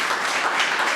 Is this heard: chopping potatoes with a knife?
no